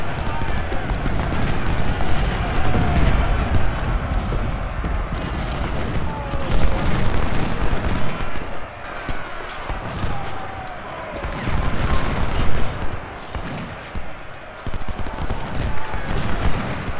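Cannon fire in the Civil War strategy game Ultimate General: Civil War at the Second Battle of Bull Run, with dense, continuous booming and rattling gunfire rolling on under someone talking excitedly.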